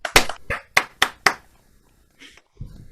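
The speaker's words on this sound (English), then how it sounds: "give ourselves a clap" A handful of sharp, separate hand claps land close together at a gathering marking the launch of a water accountability programme, then stop, leaving near silence with a faint rustle and a low thump.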